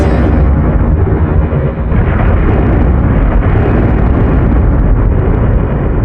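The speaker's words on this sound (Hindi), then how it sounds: "बहुत तेज से बादल गरज रहे।" A deep, continuous roaring rumble of thunder, loud and sustained throughout without a break.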